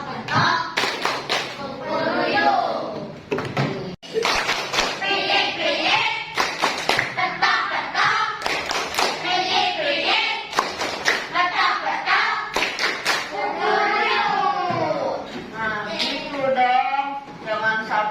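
Children in a classroom play the rhythmic clapping game tepuk pitik, with sharp bursts of group hand claps in a regular pattern, interspersed with children chanting and talking between the claps.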